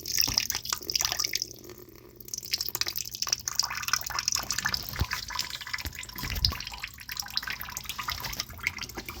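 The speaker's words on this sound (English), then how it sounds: "Look at the amount of water coming out of this" Water drips and trickles steadily from a Carrier 58MCB080 gas furnace showing fault code 31, a close, continuous wet patter with splashing drops and no talk over it.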